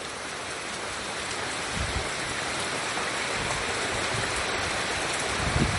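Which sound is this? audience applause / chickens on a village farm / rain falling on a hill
rain falling on a hill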